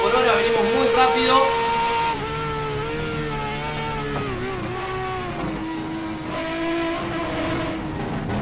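A Ford TC 2020 Turismo Carretera race car screams at full speed past 250 km/h, its engine note climbing and shifting through steady, loud harmonic tones, heard from onboard under a voice talking.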